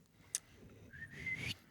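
A woman gives a brief, faint whistle, a thin rising tone lasting under a second, heard softly in a quiet room.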